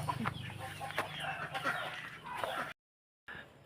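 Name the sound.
chickens clucking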